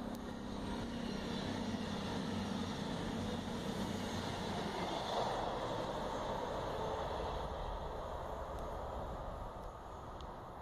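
Train passing along a railway line seen from a rural hillside path, a continuous loud rumbling roar with rolling wheel noise that stays steady across the whole stretch, no voices.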